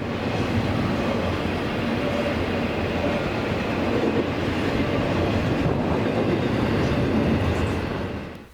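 A CSX freight train, I-168, passes during a lake effect snowstorm in Lake County, its wheels giving a steady loud rolling clatter and rumble close by for the whole stretch, fading only at the very end.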